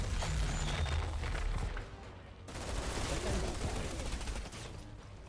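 Rapid bursts of gunfire from a video game shooter's close-quarters combat crackle steadily through the whole stretch, dense and loud with a brief dip in the middle, and a voice talks over it.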